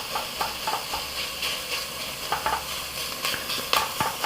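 Whole tomatoes are crushed with a potato masher in a pot over a soft sizzle, with a run of squelching, clacking presses at an uneven pace, fairly close.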